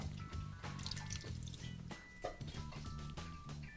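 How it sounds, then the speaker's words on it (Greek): Water from boiled potatoes is poured off into a kitchen sink, a continuous splashing, gurgling rush with small clunks, fairly faint and steady throughout, with no talking. "Θα αδειάσουμε το νερό από τις πατάτες."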